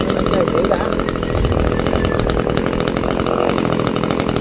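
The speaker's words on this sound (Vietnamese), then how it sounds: "Các bạn quên xả cái máy cưa pin xuống rồi." Loud, continuous buzz of a battery-powered chainsaw running at a coconut tree cutting job, steady throughout with a voice talking over it.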